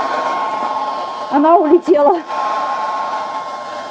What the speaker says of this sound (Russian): Можно выключить фен.